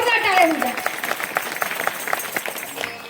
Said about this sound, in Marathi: म्हणून एकदा माझ्या लेकरासाठी जोरदार टाळ्या होत्या